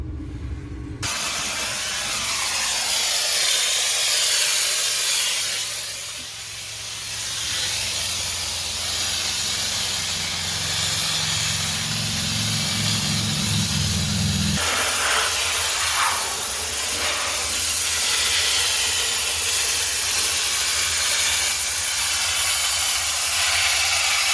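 Mobile steam cleaner blasting a car's exterior with a loud, continuous hiss of pressurised steam, with a low machine hum beneath that drops away partway through while the hissing spray carries on.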